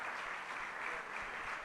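A roomful of people claps at an open talk held at the Casa de las Madres, a short burst of dense, even applause with no voices over it.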